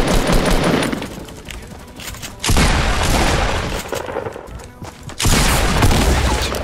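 Fortnite gunfire comes in dense, loud bursts of rapid shots, two long volleys separated by a short lull, with faint voices under it.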